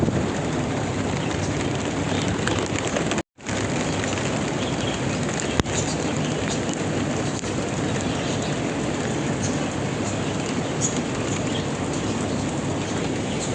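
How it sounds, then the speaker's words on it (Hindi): Heavy rain pouring down under dark clouds, a steady dense broadband hiss with no talk that continues without letup, broken only by one brief cut partway through. "भैया अभी तेज़ बारिश शुरू हो चुकी है, एकदम काले बादल आए हैं।"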